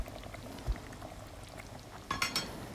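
Potatoes and chicken simmer in a pot, soft bubbling at low volume with a couple of brief clinks and a short burst of louder bubbling near the end.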